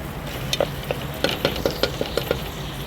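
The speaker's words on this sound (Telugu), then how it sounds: "ఈ ఆనియన్స్ గోల్డెన్ బ్రౌన్ కలర్ వరకు ఫ్రై చేసుకోవాలి." Onions frying in a pan for mutton curry, a soft steady sizzle under a string of sharp, close stirring clicks and scrapes spaced irregularly through the short stretch.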